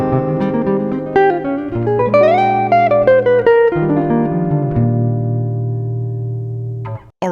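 Jazz guitar lines built on chord extensions: clean, sustained melodic phrases with chordal notes ringing underneath, played steadily and alone for about seven seconds before a brief cutoff.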